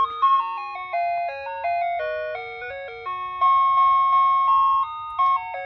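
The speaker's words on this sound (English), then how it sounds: "It's not a very good burglar alarm, unless the burglar goes outside to get ice cream." A rare security siren under test plays a melodic chime tune much like an ice cream truck jingle, steady clear tonal notes stepping up and down continuously, loud and alone.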